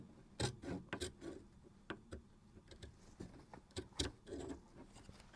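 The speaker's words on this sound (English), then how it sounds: "I am now going to trim away all of that excess binding." Scissors trim excess bias binding fabric in a sewing workshop, giving a quiet, close run of short snips and soft rubbing sounds in irregular bursts.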